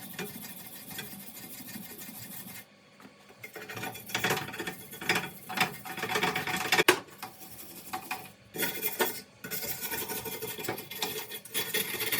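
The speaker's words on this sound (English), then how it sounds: "I'm going to take the opportunity to clean these surfaces up and also just try and clean a bit of the brake dust and stuff out of here as well" Brake dust scrubbed off the rear brake surfaces of a Citroen C2, heard as rough, raspy rubbing strokes in close, irregular bursts separated by short pauses, fairly quiet and without speech.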